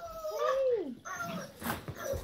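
Puppies whimpering and yipping with high, sliding whines in short bursts, close by, alongside a person speaking.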